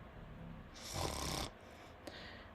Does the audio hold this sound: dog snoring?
yes